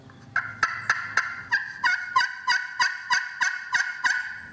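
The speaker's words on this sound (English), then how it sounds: "a great sounding call like this slate over glass" A slate-over-glass friction turkey call scratched in a steady series of about a dozen sharp, raspy yelps, evenly spaced and close.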